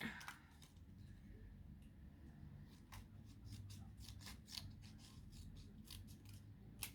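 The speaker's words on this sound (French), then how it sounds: "Là, je vais venir les découper." Scissors snip through paper to cut out two stencils for an art journal page, giving a run of quiet, close crisp cuts at an irregular pace over faint background noise.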